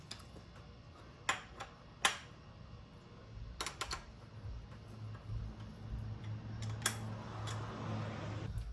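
Ratcheting clicks from a T-handle snugging the upper and lower steering stem pinch bolts on a Honda CRF450R during a rebuild, a handful of sharp, close ticks scattered over a quiet workshop hum.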